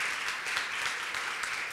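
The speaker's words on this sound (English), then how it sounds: "I think they deserve another round of applause." An audience applauds singers who have just left the stage at an event, a steady dense wash of clapping throughout.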